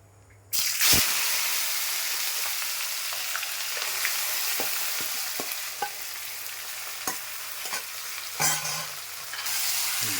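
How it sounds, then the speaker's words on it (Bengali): Loud, steady sizzling of chicken dropped into hot spiced oil, with occasional stirring clinks and scrapes; no talking. "ফোড়নটা দেওয়া হয়ে গেছে ভাজা হয়ে গেছে এরপর চিকেনটা দিয়ে দিবে"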